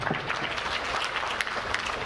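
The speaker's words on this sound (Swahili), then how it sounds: "Naomba makofi mengi sana" An audience applauds at the opening ceremony of the 46th Sabasaba international trade fair: steady, dense clapping from a large crowd, loud and continuous throughout with no voices over it.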